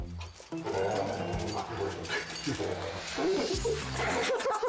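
Dog in a home video clip, dressed up for Halloween, making short barking and whimpering sounds close by amid laughter and busy background noise.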